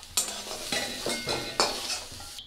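Pieces of pointed gourd (potol) fry in hot oil in a pan, giving a faint sizzle broken by several scraping stirs of a utensil at an uneven rhythm.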